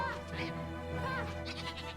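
Sheep bleating in the video game Ni no Kuni Remastered, a few short wavering bleats close together, mixed with game sounds while someone talks lightly in French.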